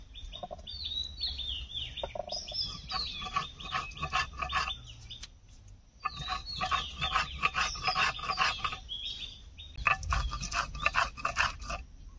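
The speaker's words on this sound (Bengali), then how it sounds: "জিরে আর আদাটা আমি এখন বেটে নেবো।" Cumin and ginger are ground into a paste with repeated rhythmic rasping, rubbing strokes in uneven bursts, while birds chirp and call nearby throughout.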